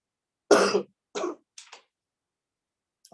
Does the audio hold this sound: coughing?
yes